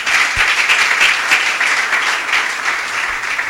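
An audience at a Christian business conference applauds: dense, sustained clapping from many hands, loud and even throughout, with no voices over it.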